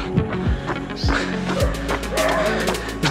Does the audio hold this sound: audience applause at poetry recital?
no